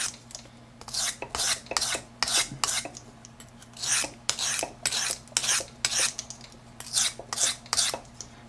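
Steady rhythmic rasping swipes of a knife blade drawn freehand across a sharpening stone, about fifteen close, even strokes alternating at a consistent pace, with no talking.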